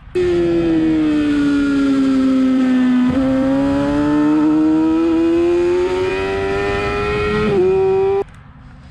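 A scooter engine on the Talladega Gran Prix Raceway holds a loud, steady whine, with two brief dips as gears change up toward fourth, then cuts off abruptly at the end.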